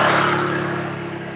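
A new Suzuki motorcycle engine hums steadily nearby while riding in Irosin, Bicol, Philippines, a continuous mid-pitched drone with a slight fade toward the end and no voices.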